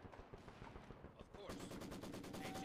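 Rapid bursts of Maxim machine gun fire in a World War strategy video game, a steady rattling stream of shots in the second half following battle noise and faint voices.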